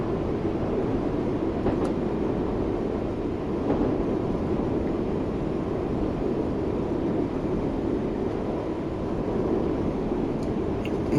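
A Class 484 train in Train Sim World 2 rolls along with steady low rumble and wheel-on-rail noise while light braking is applied, a continuous close cab sound with no clear squeal.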